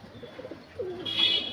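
A male Panjabi pigeon gives a short, close coo, a soft throaty call that swells louder toward its end, alone without voices.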